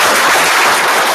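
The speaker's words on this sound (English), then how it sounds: "give yourselves a round of applause" An office audience claps together in a brief burst of dense, loud applause celebrating a business award.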